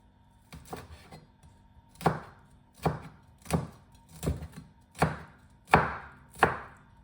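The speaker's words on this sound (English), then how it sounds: "Now we're going to chop the chillies." A knife chops chillies on a cutting board for Thai fish cakes, giving about eight distinct, evenly spaced thuds that grow a little louder toward the end, close and clear with no talking.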